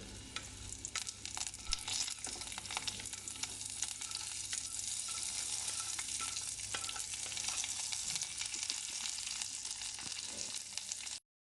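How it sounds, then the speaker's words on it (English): Cumin seeds, dried chilies, mustard green and garlic fry in hot oil with a steady, dense sizzle and crackle, close and continuous, with occasional stirring scrapes and pops and no talk. "a little bit of cumin seeds, and dried chilies with mustard green. Now fry them with the garlic."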